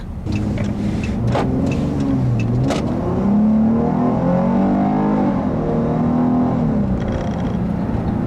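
A 2013 Chrysler 300 with an 8-speed automatic accelerates on a test drive, the engine note rising and dropping through quick shifts, heard steadily from inside the car with a few clicks early on.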